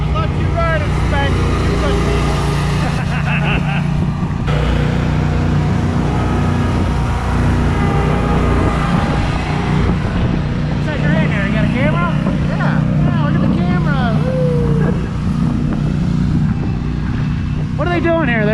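Riding lawn mower engine running outdoors at a landscape contractor equipment expo, a loud, steady low motor rumble lasting throughout, with people talking over it.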